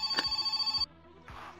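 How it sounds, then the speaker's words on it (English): A telephone in the game My Summer Car rings with a rapid, trilling bell for under a second, then stops, leaving low background hum and a soft rustle. "Why does the phone always ring when you're in the middle of wiring your car?"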